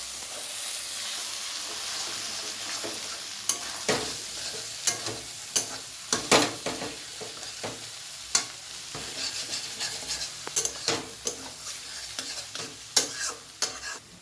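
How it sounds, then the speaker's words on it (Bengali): An egg frying in mustard oil while it is stirred, giving a continuous soft sizzle punctuated by sharp, irregular scraping clicks of the utensil against the pan, close and fairly loud. "এটা নাড়াচাড়া করতে হবে, ডিমটা দিয়েছি, নাড়াচাড়া করতে হবে।"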